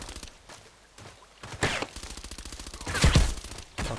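Repeated shots from an EBR marksman rifle in the Contract Wars video game, firing in a steady rapid rhythm with two louder bursts, close and prominent, with faint footsteps between.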